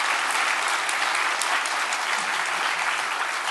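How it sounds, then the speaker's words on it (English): An audience breaks into steady, dense applause, with many hands clapping continuously at an even loudness for the whole stretch and no speech over it. "could you please give a big round of applause?"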